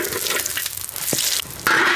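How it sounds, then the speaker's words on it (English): Chinese yeast-dough pancakes frying in a wok, a steady oily sizzle with a short stirring or placing sound in the middle, growing louder near the end. "Frying, nice."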